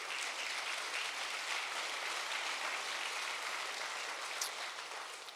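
Sustained applause from a large audience thanking military veterans, a dense steady wash of clapping that holds at full strength and tapers slightly near the end, with no voices over it.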